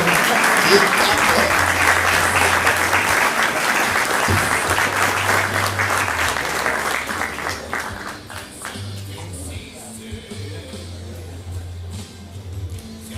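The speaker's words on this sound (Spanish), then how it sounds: "Fuerte, fuerte el aplauso" Audience applause at a Villa Ángela museum anniversary and 30 years of rock celebration: a crowd clapping strongly for about eight seconds, then fading into scattered claps over a low steady hum, with some talk in the background.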